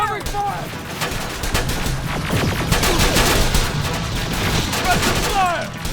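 Sustained video game gunfire in Terminator Resistance, covering fire in a firefight: rapid, loud bursts of shots and impacts with scattered booms, overlapping continuously, and voices shouting underneath.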